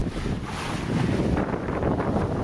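A sailboat underway on the open South Pacific, with steady wind roar buffeting the microphone and the continuous wash of waves and swell, loud and constant throughout with no voices.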